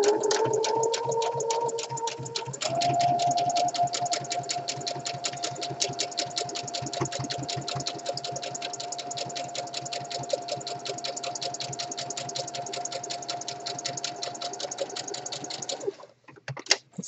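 A serger stitching across a hem seam on a single-fold hem, running steadily with fast, even mechanical ticking and a motor hum for about sixteen seconds, close and alone, before it stops.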